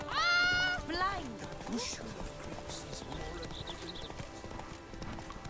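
Quick clip-clopping hoofbeats with a short whinny at the start, in The Witcher 3: Wild Hunt, with faint background tones.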